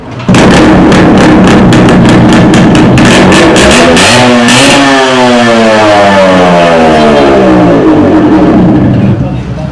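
A second-hand Yamaha motorcycle with a zero-number kit revs hard, loud and close, a rapid throttle-blipping series followed by a long rising and falling rev that settles into steady running, with someone talking throughout.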